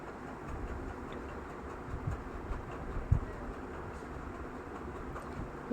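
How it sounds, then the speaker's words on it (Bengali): Low rumbling ambience of the Howrah metro station with a train moving, a couple of faint knocks and a louder thump near the end. "দেখো আমরা হাওড়ার স্টেশনে মেট্রো স্টেশনে এসেছি"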